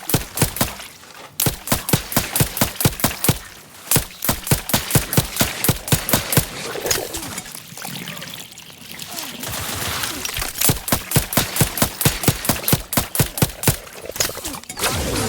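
Gunfire in The Outer Worlds 2, loud rapid bursts of automatic shots in long rhythmic runs, broken by short pauses and a quieter stretch in the middle.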